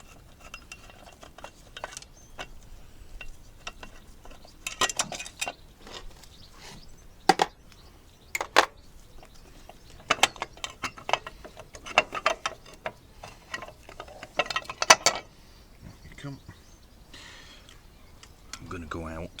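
Ratchet working on the chain sprocket of a Lifan motorcycle, a series of sharp metallic clicks and short ratcheting bursts close by, irregular and stop-start across the clip with quiet gaps between.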